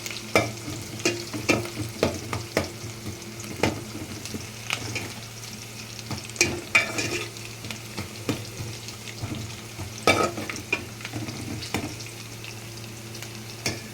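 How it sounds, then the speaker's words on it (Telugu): Onions fry and are stirred in a pan, a continuous sizzle broken by regular scraping strokes of the spoon, close and fairly steady throughout. "ఆనియన్ బాగా వేగేదాకా అలా కలబెట్టుకుని ఎక్కువ మాడినవి కాకండి"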